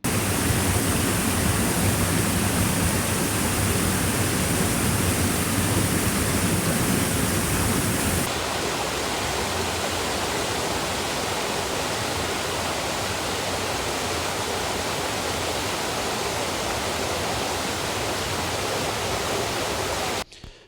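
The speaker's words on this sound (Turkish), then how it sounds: "Şu anda Kızılcasu şelalesindeyiz." Kızılcasu waterfall at Şenpazar roars steadily as a dense, continuous rush of falling water, loud and close at first, then slightly softer but still constant throughout, with no voices.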